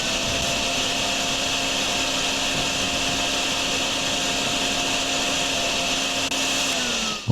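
A vacuum sucking up water in the drain-cleaning game DrainSim runs as a steady, loud drone with a broad hiss and a constant motor hum, holding without a break.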